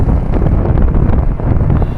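Wind buffeting the microphone on a 2002-model motorcycle ridden at speed, a loud steady low roar with the engine buried underneath, continuous and close throughout.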